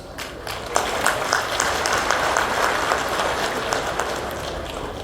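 An audience at a talk by a Sri Lankan monk claps continuously in a dense, even patter that holds steady throughout.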